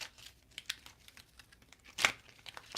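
A deck of cards is shuffled: soft, quick papery riffles and flicks, close but quiet, with one louder burst of cards near the end.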